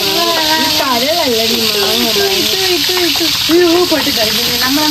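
French fries frying in hot oil make a constant close sizzle and bubbling that sits under a person talking throughout.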